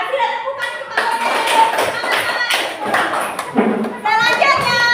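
Schoolchildren clap their hands in a classroom, a scattered burst of claps mixed with children's voices and an adult talking over them.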